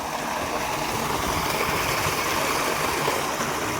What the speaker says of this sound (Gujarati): આપણે પાણી આવી ગયું.